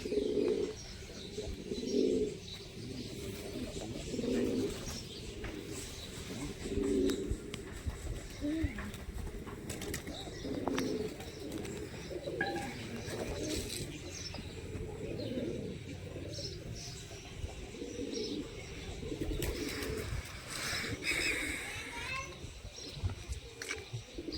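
Pigeons inside a coop repeatedly coo in low, rolling bursts, a steady series through the clip with scattered chirps, clatter and light wingbeats, while someone talks intermittently in the background.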